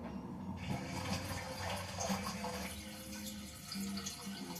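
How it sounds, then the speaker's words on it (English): An aquarium filter, newly plugged in, pouring water into the tank: a steady, close splashing and gurgling flow that continues without a break. "And now the water's flowing there."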